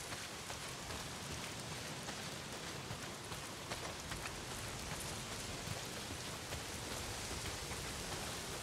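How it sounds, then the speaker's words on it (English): Heavy rain pours down steadily in the open-world game Days Gone, a dense, even hiss with soft drop patter that stays constant and fairly quiet throughout, with no voices. "Well, not if it's pissing down rain."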